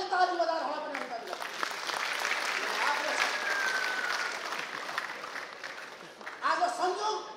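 An audience at a political gathering attended by the Prime Minister breaks into sustained applause. The dense clapping swells for several seconds between stretches of a speaker's amplified voice at the start and end.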